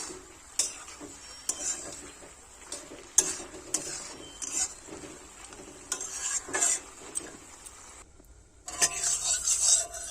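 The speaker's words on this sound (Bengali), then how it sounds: "দু থেকে তিন মিনিট নাড়াচাড়া করে খুব ভালোভাবে কষাই করে নেব" Food stirred and fried in a pan for a rustic Bengali village dish, with soft sizzling under repeated scraping and clinking strokes of a spoon against the metal, close and moderately quiet, without talking.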